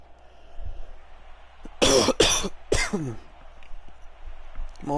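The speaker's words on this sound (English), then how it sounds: "More coughing." A man coughs in a quick burst of three harsh, close coughs, with a softer throat sound before and after against a quiet background.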